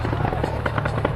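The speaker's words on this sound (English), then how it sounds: "The fireworks are going off now." Fireworks going off at Glastonbury festival, a dense crackling rumble of bursts over a busy outdoor crowd, with people talking nearby.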